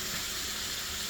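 Ground beef browning with garlic in a pan gives off a steady, soft sizzle and hiss, even and unbroken.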